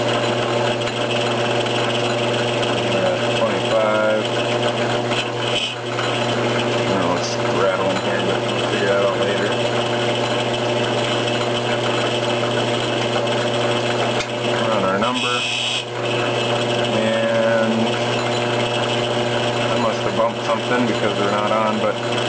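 A lathe cuts a light thread with a steady mechanical whir and hum that runs throughout, a few brief knocks in the middle, and someone talking over the machine.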